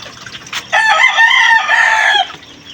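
A rooster crows loudly nearby on a poultry farm, a long drawn-out call, with hens clucking softly before it.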